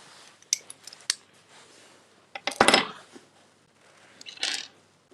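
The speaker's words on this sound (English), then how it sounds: "cutting pen to cut the top of the fiber" A cutting pen scoring and snapping the tip of a laser fiber, with a few small ticks, a sharper crisp snap midway and a softer scrape near the end, close and quiet.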